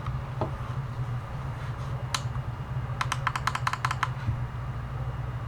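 Clicky buttons on a POWKIDDY X55 handheld console are pressed in a quick burst of sharp, close taps, a single click coming first and then a rapid rattling run near the end, heard over a low background hum.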